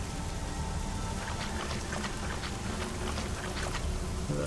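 Steady heavy rain in a video game hisses throughout, a dense wash of falling drops with occasional brighter patters, loud and continuous with no voices.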